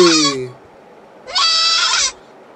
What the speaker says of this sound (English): The lady really have a goat in the car.